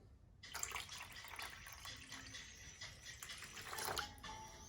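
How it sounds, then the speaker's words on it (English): Water poured from a cup into milk in a home kitchen while making KFC-style fried chicken batter, a steady close splashing gush lasting several seconds without talk. "I will add 1 cup of water."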